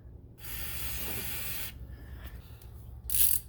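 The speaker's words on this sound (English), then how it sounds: "I'm going to give everything a shot of penetrating oil" Penetrating oil sprayed onto the front brake caliper bolts of a 1997-2004 Buick Regal makes a steady close aerosol hiss lasting just over a second, followed by quieter faint spray and a second short burst.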